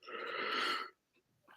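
A man gives a long, loud yawn up close, a drawn-out breathy groan lasting under a second, followed by a couple of faint small sounds.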